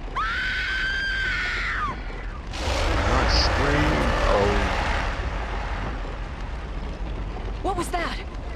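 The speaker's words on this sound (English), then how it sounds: "Scream, Anne! Scream for your life!" Actress Anne screams for a film test shot, letting out a long high shriek that is followed by loud rumbling commotion and more distant screams.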